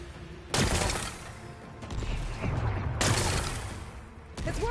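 Rocks are blasted apart in Horizon Forbidden West, with sudden loud explosive bursts followed by rumbling, crumbling debris and a final fresh blast, no talking heard.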